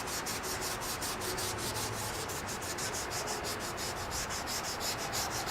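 Steady back-and-forth rubbing of sandpaper on a plastic car headlight lens, close and even in rhythm, with quick repeated strokes running continuously and no talking.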